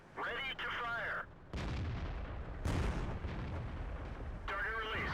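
Artillery cannon fire in the World of Tanks battle game on the Malinovka map, with heavy booming shots and rumbling explosions across several seconds, interleaved with bursts of tonal in-game effects at the start and end.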